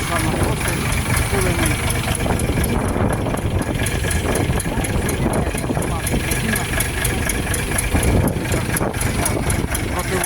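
A Shifeng 244 tractor engine idles loudly and steadily nearby, with a rhythmic chugging knock, while someone talks over it.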